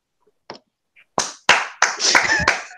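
A few people clap at a fan convention, first one or two isolated claps, then sharper close claps quickly building into a brief burst, with voices in between.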